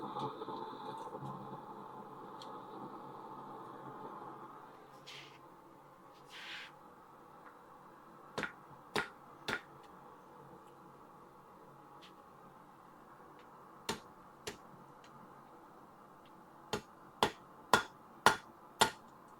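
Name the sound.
hammer tapping on an animal sculpture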